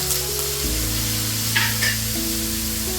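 Tomatoes sizzle and crackle steadily in a hot pan, a constant frying hiss with faint clinks of a utensil, no voices.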